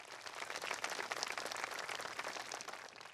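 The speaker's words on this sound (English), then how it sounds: "Please give the Washoe Education Association and Natha Anderson, their president, a round of applause." Audience at a groundbreaking for a new high school in Washoe County applauding, a dense, moderately faint patter of many hands clapping steadily for a few seconds.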